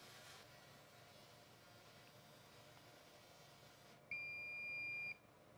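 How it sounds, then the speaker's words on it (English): After several seconds of quiet machine hiss from an Epilog G2 laser engraver etching cast aluminum, a single steady job-complete beep sounds for about a second, clear and fairly loud, then stops. "the beep tone tells us the job is done"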